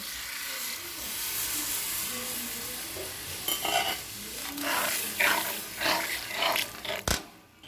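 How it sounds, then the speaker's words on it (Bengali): Coconut milk being stirred into a prawn masala in a pan: a soft continuous sizzle with scraping, clattering stirring strokes growing busier and louder toward the end, plus a sharp clink near the finish. "আমি এর সাথে নারকেল দুধটা অ্যাড করে দেব"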